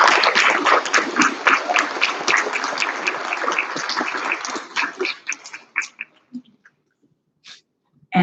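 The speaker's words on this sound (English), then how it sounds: "Let's give him a big round of applause" Applause for a third-place finisher at a school spelling bee, a dense burst of clapping that thins into scattered claps and fades to near silence.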